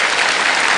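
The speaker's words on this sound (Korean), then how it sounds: "여러분 박수 부탁드리겠습니다" Audience applause following a lecture, a dense, steady wash of clapping from a seated crowd, loud and continuous for the brief moment with no voices over it.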